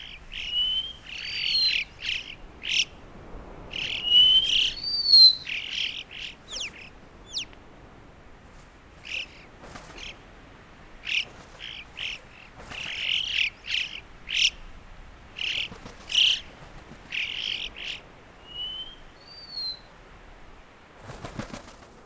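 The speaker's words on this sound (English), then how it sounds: "From the Alpine choughs, who sing their song in the breeze" Alpine choughs give bright, repeated chirps and whistled calls among rocky cliffs, coming in clustered bursts with short pauses over a quiet breeze.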